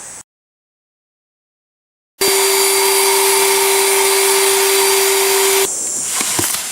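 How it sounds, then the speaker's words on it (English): After a moment of silence, a vacuum cleaner in a garage roars to life with a loud, steady whine and hiss while vacuuming a Mercedes convertible top, then its pitch drops as it winds down. "let's bring the car into the garage and let's vacuum this top"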